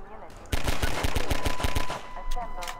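Rapid automatic gunfire in the video game Half-Life 2, a loud burst of evenly spaced shots lasting about a second and a half, followed by a few more scattered shots, with no talk.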